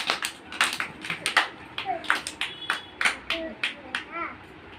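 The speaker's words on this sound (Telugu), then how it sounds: "క్లాప్స్ కొట్టండి అందరూ. గట్టి చప్పట్లు కొట్టండి." Children clap for a boy named Ritvik in a small group, giving a scattered run of sharp, uneven claps close by. Children's voices and an adult's voice are heard alongside.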